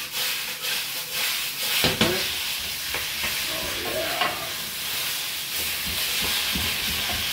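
Charred beef and vegetables sizzle steadily in a hot pan for beef stock, a continuous close frying hiss with occasional scraping and stirring clatters.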